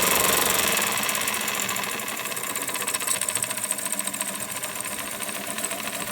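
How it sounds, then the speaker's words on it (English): A Jensen Model 25 toy steam engine runs steadily with a dense, rapid mechanical chatter and hiss, slightly louder at first then settling into an even, continuous clatter with no voices. "I'll slow the engine down to just barely ticking over"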